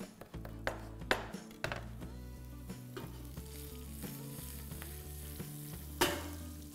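Cashew nuts and green chillies fry in hot oil in a pan, a steady close sizzle broken by several sharp taps and scrapes of a stirring spoon, with a louder clatter near the end.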